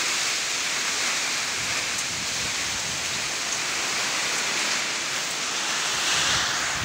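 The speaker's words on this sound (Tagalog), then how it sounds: "Yan mga idol, ang lakas ng ulan." Heavy rain pours steadily during Typhoon Kristine, a dense, constant roar of water on surfaces with no breaks, loud and close throughout.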